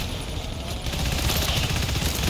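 Sustained turret gunfire in GTFO, a dense, continuous rattle of rapid shots blending into a loud roar without pause.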